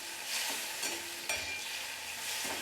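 Fish fries in hot oil in a pan with a steady, close hiss and crackle, broken by a few scrapes and stirs, and no talking.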